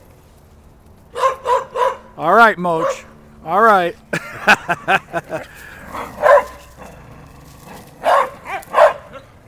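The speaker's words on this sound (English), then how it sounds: "All the people with aggressive dogs are all here playing." Several dogs play together, barking and yipping in short bursts with whimpers between, close by, while a person talks to them.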